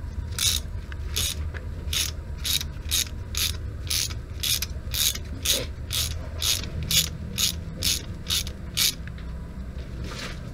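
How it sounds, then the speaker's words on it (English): Ratchet tightening a threaded part on a car engine, a close, crisp clicking in a steady rhythm of about a dozen and a half strokes over a low background hum. "once you're ratcheting it and it stops, you just hold it and give it an extra turn"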